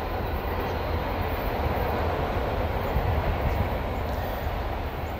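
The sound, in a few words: freight autorack train passing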